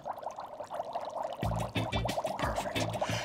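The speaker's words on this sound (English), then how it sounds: "all that bubbling that you hear happening right now is actually bubbling carbon dioxide into the liquid" Dry ice (frozen carbon dioxide) bubbling gas into a liquid while making homemade soda, a steady fizzing and gurgling that turns suddenly louder and churning halfway through, with rapid, close, continuous bubbling.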